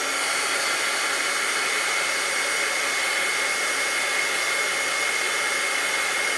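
A heat tool drying watercolor ink on a stamped card tag gives a steady, loud blowing whoosh that holds evenly throughout with no pauses.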